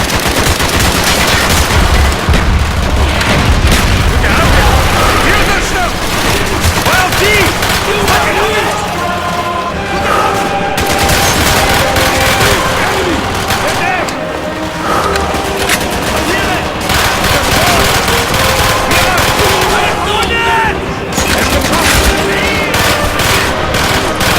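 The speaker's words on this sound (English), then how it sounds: "Firing mortar!" Mortar blasts and rapid gunfire from the Call of Duty: Black Ops campaign on Xbox 360, a dense continuous barrage of bursts and booms with game voices shouting over the battle throughout.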